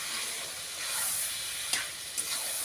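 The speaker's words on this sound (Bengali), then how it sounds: "আদা রসুন লঙ্কার পেস্ট করে রেখেছিলাম, সেটা আমি দিয়ে দিলাম।" Ginger, garlic and chili paste hisses and sizzles loudly in a hot pan, a dense steady frying crackle with a couple of brief sharp spatters near the end.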